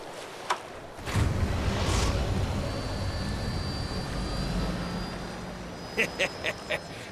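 In the game Final Fantasy VII Rebirth, a damaged aircraft engine fires up with a thump, then settles into a broad, steady roaring whir with a rising whine, ending in a few soft rhythmic knocks.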